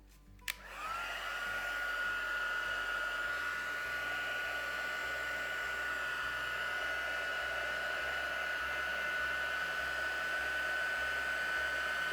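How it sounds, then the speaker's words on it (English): Heat gun blowing hot air while craft work on an emu and dream catcher is heated, a steady close whooshing hiss that starts with a click and runs unbroken. "a little bit of heat gun on the hand is not a bad thing"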